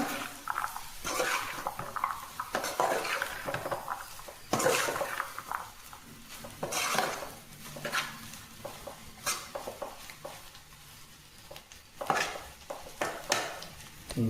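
A spatula scrapes and stirs cauliflower and chana dal fry with fresh coriander in a pan, giving repeated close metallic scraping strokes with sizzling underneath at an uneven rhythm.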